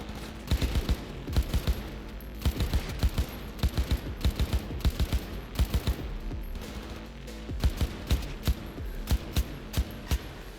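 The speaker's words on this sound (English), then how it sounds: "I can hear you attempting to shoot at me." Rapid bursts of automatic gunfire from the video game Cyberpunk 2077, loud sharp shots repeating in clusters throughout with brief pauses between volleys.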